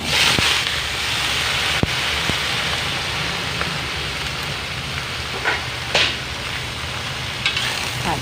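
Cabbage stir-fries in a pan with golden fried garlic, a loud, rain-like sizzle that runs nonstop and is broken by the scrape and toss of stirring, with no talking.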